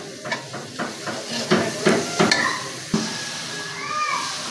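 Spices frying in a hot pan for a Bengali river-fish curry, sizzling and crackling in short bursts with a few sharp clinks of a utensil against the pan.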